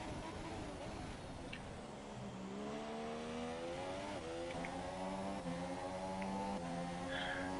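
Formula 1 race cars from a racing video game at the Azerbaijan circuit, including a Mercedes-powered car closing fast on a McLaren, their engines droning and climbing in pitch as they accelerate, loud and continuous with commentary voices talking over them.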